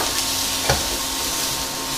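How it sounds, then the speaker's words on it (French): Shiitake mushrooms and carrots stir-frying in a hot pan over high heat for quick noodles, a steady close sizzle with a brief stirring scrape partway through, no voices. "Je vais ajouter les shiitake."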